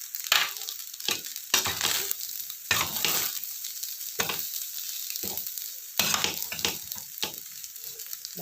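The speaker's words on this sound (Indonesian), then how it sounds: "Harusnya ini apinya besar ini ya kalau nasi goreng itu, karena dibolak-baliknya harus cepet ini." Nasi goreng fried rice sizzles loudly in a hot wok as a spatula scrapes and tosses it in quick, irregular strokes, close by with no talking.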